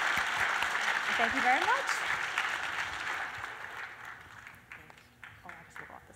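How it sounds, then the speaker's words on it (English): Audience applause at a kick-off workshop held at Levi Stadium, a moderate clapping wash that swells early and then thins and fades while someone speaks over it. "please give Mindy and Vonda a warm applause for being here."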